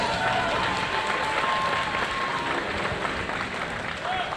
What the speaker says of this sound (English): Applause for these tremendous fighters,